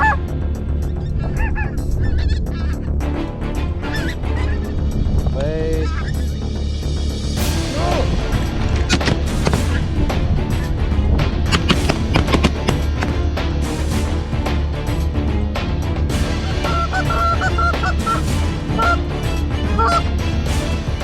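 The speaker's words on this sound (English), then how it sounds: "To attract the attention of wild geese flying in the sky and call them to swoop down on the fields" Wild geese honk repeatedly, loud and close, in a dense continuous flock chorus over open fields, with scattered overlapping calls throughout.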